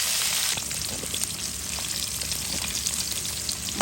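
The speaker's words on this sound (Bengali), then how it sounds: "এখন ভেজে নিচ্ছি" Food fries in a pan while cooking shutki vegetable curry, a steady loud crackling sizzle with scattered pops and spits, close and uninterrupted.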